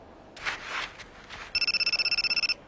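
A mobile phone rings with a fast electronic trill, a steady run of rapid pulses lasting about a second, following a few short rustling sounds, with no one speaking.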